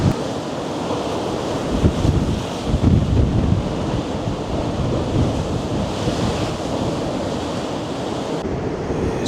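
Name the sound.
sea waves and strong wind at Blackpool after a storm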